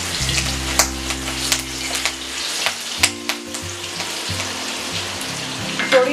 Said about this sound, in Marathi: आपलं तेल तापलंय, आपण याच्यात एक हिरवी मिरची आपण तुकडे करून घेतली आहे, ती टाकूया याच्यामध्ये।